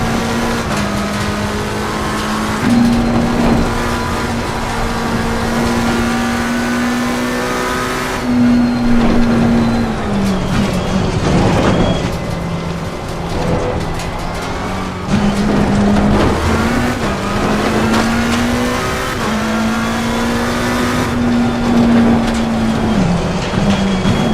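Race car engine lapping Bathurst in a VR racing game, a loud, continuous near drone rising in pitch through the gears with brief drops at shifts, repeating over several acceleration runs.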